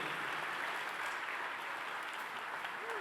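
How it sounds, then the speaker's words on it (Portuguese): A church congregation claps together in sustained, dense applause that fills the room evenly from start to finish, with no voices rising above it. "Let's give the Lord a hand."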